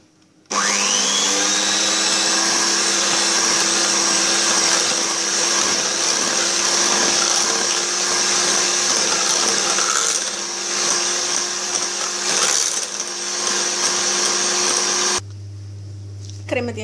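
An electric mixer whips chantilly cream powder with other ingredients, a loud steady close motor whine running for about fifteen seconds before it stops, with a voice heard faintly alongside.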